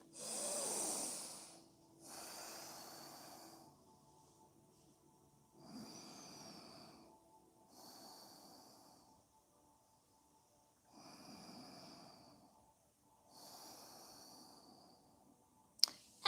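Slow, deep yoga breathing close to the microphone, with about seven long breaths in and out at an even pace, soft and airy, with short quiet gaps between them and a small click at the very end.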